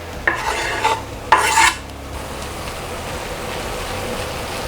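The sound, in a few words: red peppers added to sizzling ground turkey, stirring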